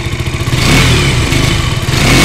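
A KTM RC 200 BS6 motorcycle with an underbelly exhaust runs close by, a loud throbbing engine note with a brief rev in the middle before settling back to a pulsing idle.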